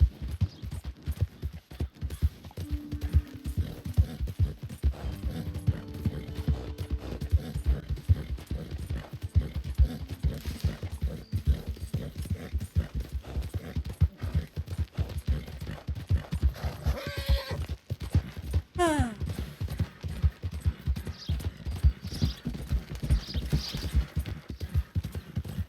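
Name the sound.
horse galloping in video game Red Dead Redemption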